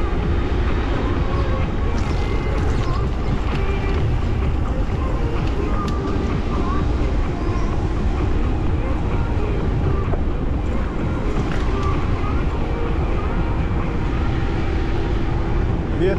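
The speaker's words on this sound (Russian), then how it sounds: "Ветрено, прохладно." Cool, gusty wind buffets a microphone outdoors on a Crimean route near Ordzhonikidze and Feodosiya, a loud, unbroken rumbling roar filling the whole stretch with little else audible.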